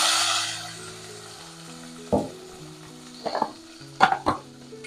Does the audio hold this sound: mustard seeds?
yes